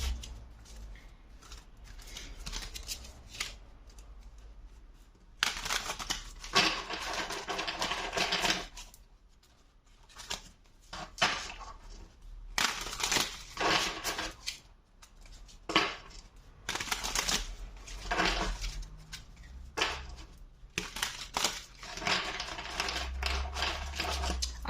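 Tarot cards being shuffled by hand in bursts of crisp riffling and flapping card noise, with quiet pauses between the shuffles and no talk.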